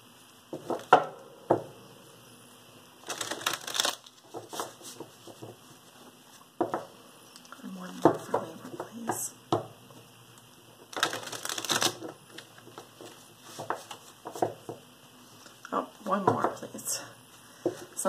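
Tarot cards for a weekly Libra reading are shuffled by hand in repeated short riffling bursts, close and fairly quiet, between stretches of someone talking.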